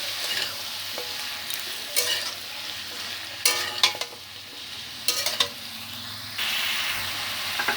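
Bottle gourd for Bengali sukto sizzles gently in a pan while a spoon stirs it, with several sharp scraping bursts over the steady frying hiss.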